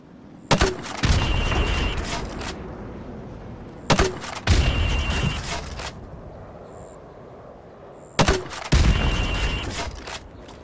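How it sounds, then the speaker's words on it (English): Grenade launcher rounds fired into windows in Call of Duty: Modern Warfare Remastered, three loud bursts each made of a sharp launch report followed by a rumbling explosion, spaced about four seconds apart. "Right, now pop a grenade into windows 5,"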